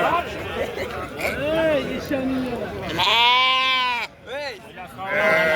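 Sheep bleat loudly and close by at a livestock market, several drawn-out wavering calls, with people's voices chattering in the background.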